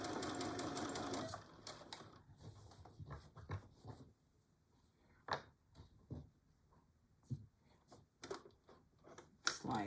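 A home sewing machine back stitches a Betty Boop pillow cover in a short, close burst of rapid whirring, followed by quiet scattered clicks and fabric handling.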